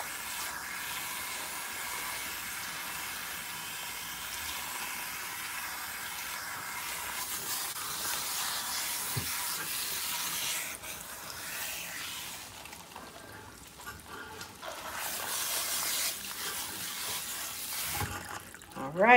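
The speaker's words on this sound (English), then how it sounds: "I'm gonna rinse her some more because I still see a little bit of soap." Running water rinsing shampoo out of very thick hair, a steady hissing spray close by that shifts in tone as the stream moves, with faint voices underneath.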